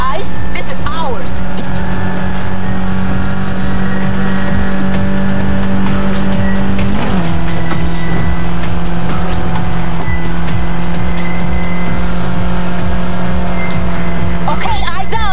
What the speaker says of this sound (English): There's some real speed in this race, Anna.